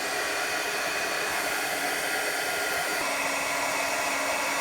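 A heat embossing tool blasts hot air over embossing powder on a tile corner, a steady, loud, close whooshing drone that holds unbroken throughout without voices.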